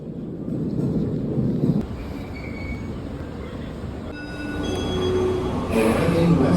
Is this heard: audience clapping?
no